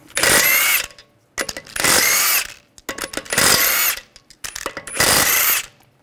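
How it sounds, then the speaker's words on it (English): Four loud, close bursts from a power tool spinning a 17 mm socket to remove the front wheel lug bolts on a 2009-2010 BMW 535i, each whir lasting under a second with short pauses between them and no talking. "use a 17 millimeter socket, take the lug bolts out"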